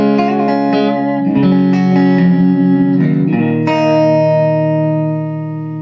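An electric guitar rings out through a Giant Killer amp in a fairly clean tone with the guitar volume rolled back, strummed chords sustaining and overlapping with a slight edge, no voices.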